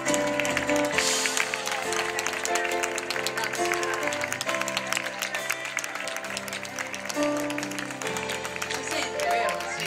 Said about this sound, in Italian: Vorrei che lo accoglieste con un grande applauso